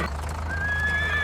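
Cartoon horse neighing with a rising, whinnying tone over a steady low hum, close and fairly loud, hoof sounds blending in briefly at the start.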